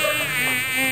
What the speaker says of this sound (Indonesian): Kebun ya, maklum banyak nyamuk.